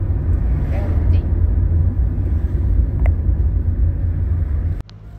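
Steady low road rumble from highway traffic fills the clip, loud and continuous, with a faint passing whine near the middle and an abrupt drop in level near the end.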